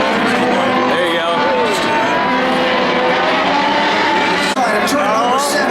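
IndyCar race cars braking into turn 7 at the Sonsio Grand Prix, loud high engine whine with rising and falling pitch as they downshift, under continuous commentary.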